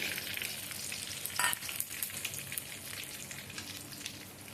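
Cinnamon, cardamom seeds and cloves frying in hot animal fat, a loud steady close sizzle with a brief stirring clatter partway through.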